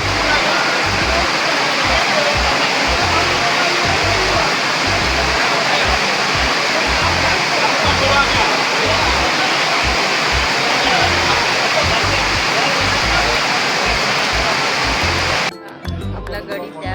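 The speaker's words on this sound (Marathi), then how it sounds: "आणि तुम्ही बघू शकता खूप पाऊस आहे" Heavy rain pours steadily in Pattaya, a loud and dense wash of noise that runs unbroken for most of the time before dropping away abruptly near the end.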